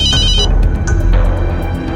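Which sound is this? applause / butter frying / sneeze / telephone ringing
telephone ringing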